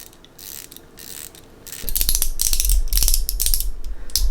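A stubby fine-tooth swivel-head ratchet clicks rapidly and steadily, close and fairly loud, after a quieter stretch of faint handling noise.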